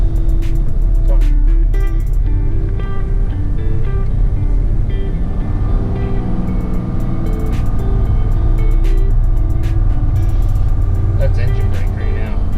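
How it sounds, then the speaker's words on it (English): A heavy truck with a straight-pipe exhaust, engine braking on a snowy road during a blizzard in Canada. A loud, steady, close diesel rumble runs throughout, with faint voices underneath. "That's engine brake right now."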